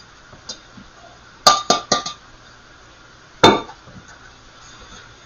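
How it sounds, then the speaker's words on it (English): Two cups of dry rice poured into a pot of softened peppers for jambalaya, heard as a few sharp clinking, rattling bursts against the pot, a quick cluster followed by one more pour a moment later, with no talking. "So I'm going to go ahead and add some rice to the mix."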